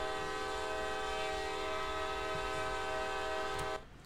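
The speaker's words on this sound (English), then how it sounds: "and blow the horn." A loud, sustained multi-tone train horn from the Train Sim World video game blasts steadily for nearly four seconds, then cuts off abruptly, leaving quieter rumble behind.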